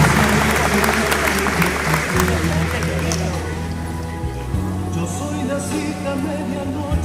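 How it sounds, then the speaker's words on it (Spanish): Steady applause from a crowd at a May 25 ceremony in Villa Ángela, marking the town's 115th anniversary, with dense clapping running the whole stretch over a low, constant hum. "Fuerte el aplauso en nombre de la comunidad de Villa Ángela."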